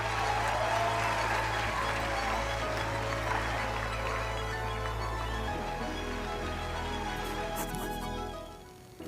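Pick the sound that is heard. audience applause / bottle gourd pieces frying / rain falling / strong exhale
audience applause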